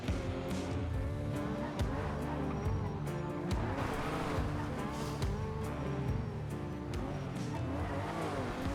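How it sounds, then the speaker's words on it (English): Car engine in a video game, a steady low drone with rising and falling revs and occasional tire-squeal-like bursts, continuous and fairly loud throughout, with no talk over it. "Why does my engine sound low?"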